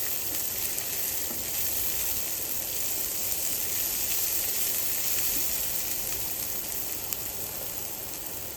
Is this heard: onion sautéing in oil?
yes